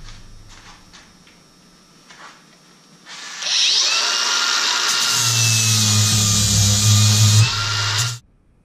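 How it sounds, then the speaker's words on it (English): A flap wheel grinds a steel tube ladder bar after a quiet start. It sets in as a loud, harsh, continuous whirring that deepens once it bites into the metal, then stops abruptly after about five seconds. "I'm going to go ahead and blend the other side with the flap wheel first"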